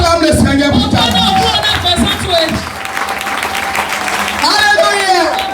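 Church congregation applauding during a French-language prayer service, sustained dense clapping across the whole span with a preacher's voice speaking and calling out over it.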